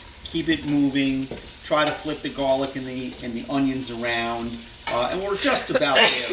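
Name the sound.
garlic and onions frying in oil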